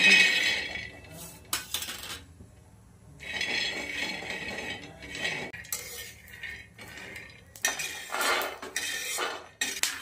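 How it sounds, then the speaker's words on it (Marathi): Metal utensil scraping and clattering against a pan in irregular bursts as peanuts are stirred and tossed while dry-roasting, with no talking. "तर मग शेंगदाणे भाजून घेऊ आता"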